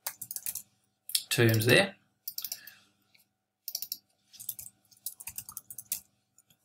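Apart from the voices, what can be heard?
typing on a computer keyboard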